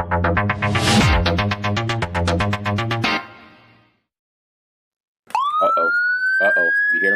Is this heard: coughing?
no